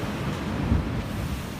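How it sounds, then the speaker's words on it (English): Ocean waves breaking at Ocean Beach, San Diego, a steady broadband wash of surf mixed with wind buffeting on the microphone, continuous and fairly loud for a brief moment. "Catching some waves out here, man."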